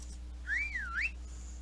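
A single whistle from the video game Skyrim, a short warbling tone that rises, dips and rises again. It is faint and clean, sits over a steady low hum, and no one speaks.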